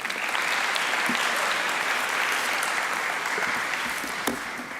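A seminar audience at a fraud awareness event gives a round of applause to welcome a speaker, a close, full burst of many hands clapping that stays even for the whole clip.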